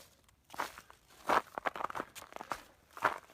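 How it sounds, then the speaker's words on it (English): Crunchy footsteps on a gravelly or icy mountain trail, several uneven steps at a walking pace, close and fairly quiet. "Hear my crunchy steps."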